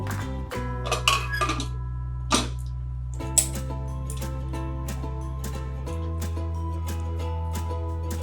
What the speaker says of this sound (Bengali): এবার আমি প্রেশার কুকারের মুখটা আটকে দেব